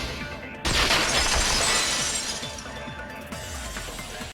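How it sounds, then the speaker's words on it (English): Glass shattering in the video game Danganronpa 2, a loud burst of breaking glass that rings and tinkles away, followed by a second, softer crash near the end. "At the entrance hall, the girls heard the sound of the window shattering"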